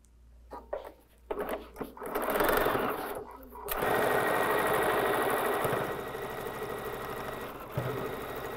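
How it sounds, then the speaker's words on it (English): A sewing machine stitches an eighth-inch seam around fabric for a charm pack laptop case, starting with a few short bursts, then running in a loud, steady mechanical whir close by before slowing near the end. "get that eighth inch seam allowance sewn all the way around this"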